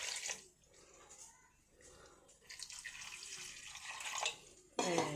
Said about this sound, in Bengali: এবার পরিমাণ মতো জল দিয়ে দিলাম।